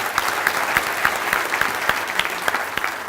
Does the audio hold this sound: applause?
yes